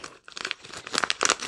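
Sticky tape is torn and crumpled off a wrapped Christmas gift in quick, close crinkling and ripping bursts, with no voices.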